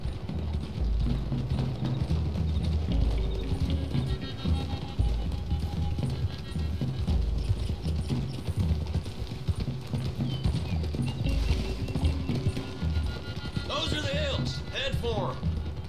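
Horses trotting along a road in Red Dead Redemption II, a steady clip-clop of hooves running under continuous talk and background game sound, with some sharper sounds near the end.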